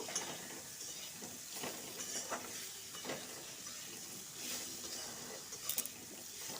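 Potatoes and onions frying in a pan with turmeric and salt, stirred with a utensil: a faint, soft sizzle broken by scraping and clinking strokes, with no talking.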